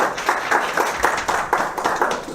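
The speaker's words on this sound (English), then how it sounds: "Let's applaud that group." A small group of attendees at a county committee meeting claps in a short, rhythmic burst of distinct hand claps, moderately close, with no talk over it.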